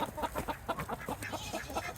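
Three chickens cluck in quick, repeated bursts close by, a busy run of short clucks with no talking.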